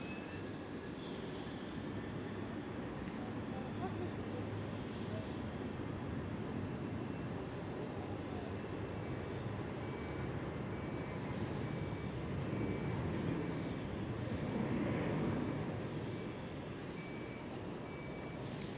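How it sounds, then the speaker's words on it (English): A KLM Boeing 737 departing from runway 24 at Schiphol, a distant, steady low jet roar that swells slightly late on, faint and continuous with no voices nearby. "next one on runway 24 for departure, KLM 737"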